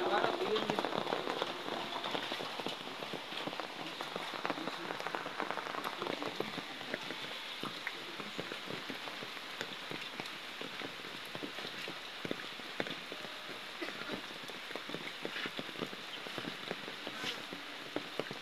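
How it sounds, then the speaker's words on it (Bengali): Heavy rain pours onto a surface, a steady dense patter of drops with scattered sharper hits, continuing unbroken throughout with no talk. "এইভাবে যদি বৃষ্টি নামে তো অবস্থাটা কি হবে দেখেন"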